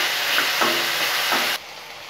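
Ivy gourd fries in hot oil for a spicy tamarind curry, hissing in a close, steady sizzle with a few stirring scrapes before it drops to a quieter crackle.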